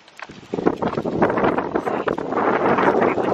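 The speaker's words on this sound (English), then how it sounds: "It's a pretty windy, but it's such a pretty day outside." Wind gusts across the microphone outdoors on a sunny, blustery day, a rough rumbling roar that builds after a quiet start and stays strong and steady, with no voices.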